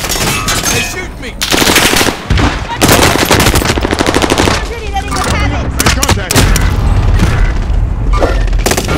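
Loud, dense gunfire in the video game Warzone Pacific during a resurgence match, with rapid machine-gun bursts, booming impacts and near-continuous fusillades filling the whole stretch, plus game radio chatter mixed in.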